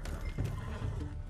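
A loud horse whinny with some hoof clopping mixed in, heard up close in a dense Red Dead Redemption 2 game soundscape.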